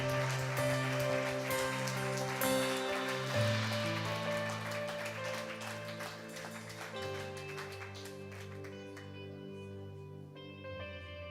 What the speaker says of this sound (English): Give Jesus a hand clap.